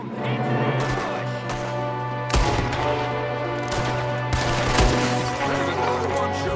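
Gunfire rings out in a Red Dead Redemption 2 shootout ambush, with loud sharp shots in irregular bursts over a sustained droning game soundtrack.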